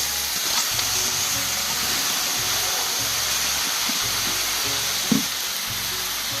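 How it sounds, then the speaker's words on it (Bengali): Ash gourd hitting a hot wok sets off a steady, fairly loud frying sizzle with a broad hiss that runs unbroken throughout, a faint low hum underneath and one brief knock near the end. "এবার চাল কুমড়োটা দিয়ে দেব সিদ্ধ করার জন্য"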